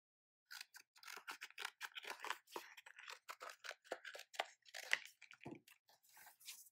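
Scissors trimming brown cardstock: a long run of close, crisp snips at an uneven rhythm, heard alone.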